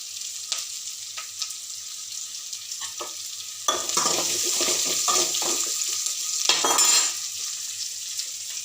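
Onions sautéing in a pan for idli sambar give a steady low sizzle, joined midway by a louder stretch of stirring scrapes and bubbling. No one speaks.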